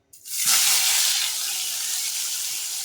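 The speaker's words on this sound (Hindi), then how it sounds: "अभी इसको चलो फ्राई करना है, कम अज कम 6-7 मिनट तक इसको चलो फ्राई करेंगे" Fish frying in hot oil in a pan over a lowered flame, a sudden loud sizzle as the fish goes in, then a steady, bright hiss and crackle that holds close and strong.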